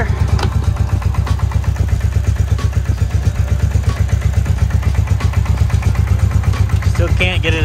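A Bombardier Quest 500 ATV engine runs loudly nearby with a rapid, even thumping beat as it is shifted into gear, with some clatter and a faint voice in the background.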